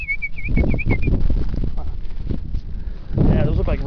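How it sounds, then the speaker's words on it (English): Wrentits chirp in coastal sage scrub on trails in La Jolla, San Diego: a short run of clear, repeated high notes near the start, then wind and rustling, with a few faint bird calls near the end. "Those birds are the ones you keep hearing chirping."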